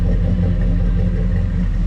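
A Chevrolet Monte Carlo running through its dual exhaust, a loud, steady, deep engine rumble held close by without change for the whole short stretch, with no voices over it.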